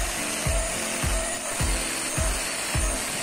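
An angle grinder cuts notches into a saw mill blade being turned into a hand saw, a loud steady whine broken by regular rhythmic grinding strokes about every half second.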